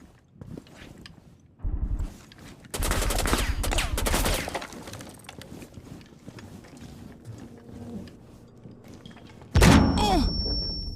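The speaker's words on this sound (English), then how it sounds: "Gunshots." Bursts of gunfire in a Rainbow Six Siege match, a sharp loud volley followed by a sustained rattling stretch, then a later single heavy blast amid quieter game noise.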